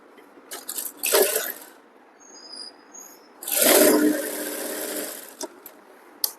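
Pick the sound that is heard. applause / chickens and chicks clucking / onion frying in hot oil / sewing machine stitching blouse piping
sewing machine stitching blouse piping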